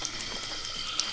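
Water runs steadily from a tap near a homestead chicken coop, a continuous hissing flow heard alone with no voices.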